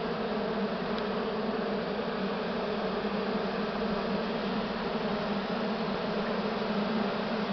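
Honeybees swarming around an opened hive during spring mite treatment make a dense, continuous buzzing drone, loud and close, with no voices over it.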